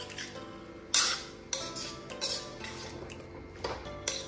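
Chicken being stirred in a covered pan without oil: a utensil scrapes and clinks against the metal pan in several sharp knocks, close and fairly loud, with quiet gaps between strokes and no voices.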